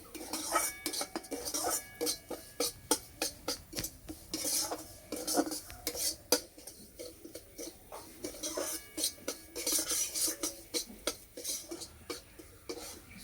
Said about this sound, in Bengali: সুজিটা কিছুক্ষণ ভেজে নেবো